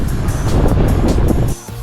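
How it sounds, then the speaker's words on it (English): Strong wind buffets the microphone in gusty rumbles atop Taipei 101, loud and close, then drops off abruptly near the end. "Oh yeah, it really is windy here."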